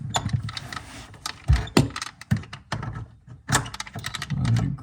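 A metal basin wrench is worked up under a sink onto the nut of a Kohler Memoirs widespread lavatory faucet, producing close clanks, ratcheting clicks and knocks in irregular bursts, without talking.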